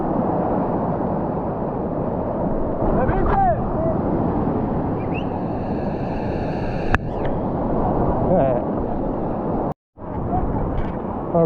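Roaring whitewater from level 4 rapids on an Ecuador rafting trip, a dense, loud continuous rush of water and wind buffeting the microphone, with brief shouts and a short dropout near the end.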